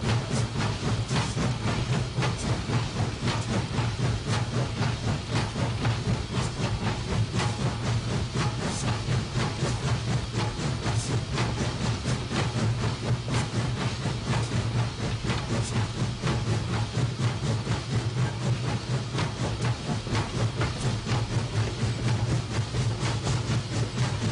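A big Baldwin steam locomotive rumbles through a tunnel, a dense, steady roar with a deep low hum and constant hiss that stays loud and unbroken from start to finish.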